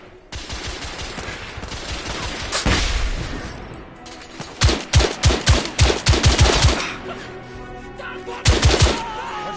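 Rapid bursts of gunfire from The Order 1886 fill the scene, with loud sharp volleys and clustered shots separated by brief lulls, plus a rumbling boom early on.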